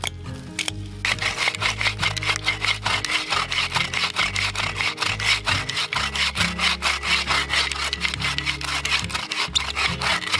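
A tree is sawn down by hand in snowy woods, with loud, close, rhythmic back-and-forth strokes of the saw biting into the wood, steady throughout.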